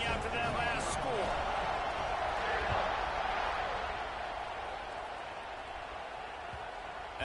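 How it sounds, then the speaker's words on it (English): Broad, steady stadium crowd roar from a college football video game, Auburn against TCU, swelling and buzzing continuously at high level, dipping slightly toward the end, with a commentator's voice talking over it. "this crowd is buzzing after that last score"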